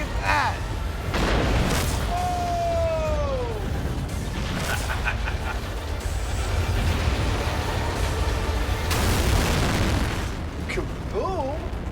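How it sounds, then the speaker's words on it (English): A loud explosive blast set off to blow up shrimp for a cooking experiment, heard as a long, roaring rumble with debris crackle and whooshing, mixed with excited voices and a whistling tone. "Kaboom!"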